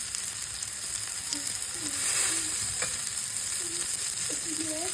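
A spoon stirs paneer masala in a sizzling pan, the constant frying hiss broken by a few light scrapes and taps against the pan, heard up close with no talking.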